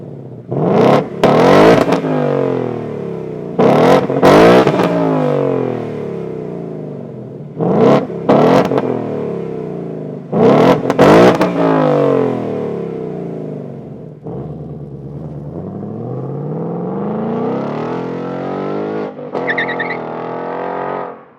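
A 2018 Ford Mustang GT with its active exhaust set to track mode, revved repeatedly in sharp bursts between idle, then a longer climbing rev, loud and close with no talking.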